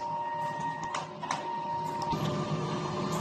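A DTF printer runs a print head cleaning cycle, giving a steady mechanical hum with a faint tone and a few soft clicks and whirs, quiet and close.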